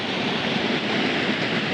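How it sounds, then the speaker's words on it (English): A waterfall at Ravensdale flows in a steady, full rushing roar, broadband and continuous with no other sounds. "I just wanted to get the waterfall flowing in full"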